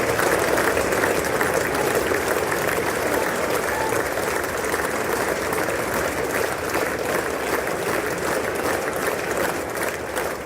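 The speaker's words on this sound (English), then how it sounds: "Lawmakers stood up and applauded as he walked up to the podium to deliver his address." Lawmakers give the Prime Minister of India a sustained round of applause in a legislative chamber, a dense and steady clapping that fills the room throughout.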